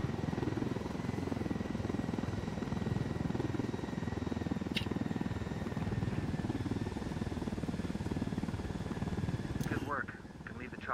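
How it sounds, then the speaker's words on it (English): Helicopter rotor from Ghost Recon Wildlands, a steady low whirring drone held throughout at even loudness, with a voice briefly heard near the end. "It really sounds like an RC helicopter."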